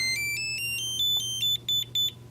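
A Dogtra Pathfinder 2 GPS connector plays a rising run of electronic tones, then a series of short, bright beeps in quick succession as it pairs, clear and close.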